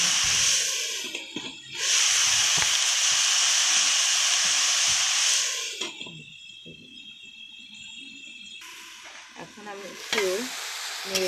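Chopped spring onion greens sizzle loudly in a hot pan and are stirred with a few scraping pushes. The frying is steady and close, then drops to a softer hiss before flaring up again.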